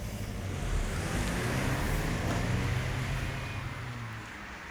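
A 2015 Mazda3 with a manual transmission and 2.5-liter engine pulls away from a stop, giving a steady low engine drone with broadband road and wind rush that swells and then eases slightly, with no talking.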